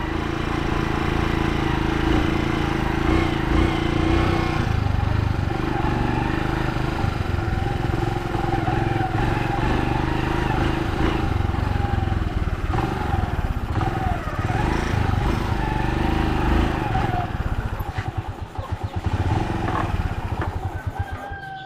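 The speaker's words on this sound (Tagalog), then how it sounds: "Lumilipad-lipad yung motor." A motorcycle hauling river sand roars at close range, its engine rumbling steadily and loudly with slight changes in pitch as it rides over sandy ground.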